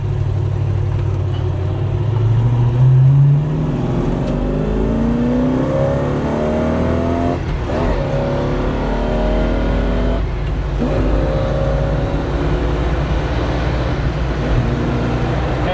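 A 1969 Chevrolet Camaro Z28 engine revs up steadily while driving, pitch climbing through the gears with brief dips at manual clutch shifts, loud and close with constant road rumble.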